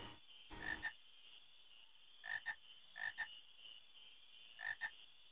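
Frogs in the video game Final Fantasy IX, giving four short paired croaks spaced apart over a quiet ambient hum.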